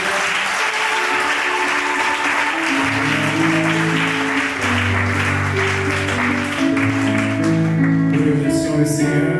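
A church congregation at a Sunday service applauds for the Lord, loud sustained clapping from a crowd with sung or held tones rising underneath and continuing throughout.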